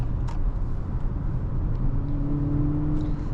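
A 2025 Acura RDX A-Spec, an SUV, heard from inside while driving: a steady low engine hum with road rumble throughout, and a faint tone rising slightly in the second half as the car pulls along.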